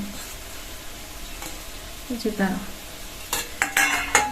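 Chillies sizzle in a pan on a home stove while a spoon stirs and scrapes against the metal. Close, clattering strokes rise in the second half over a steady hiss of frying.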